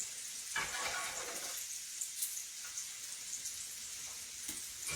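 Bacon frying in a skillet, a quiet continuous crackle of hot grease with scattered pops and a couple of faint scrapes, heard alone at close range.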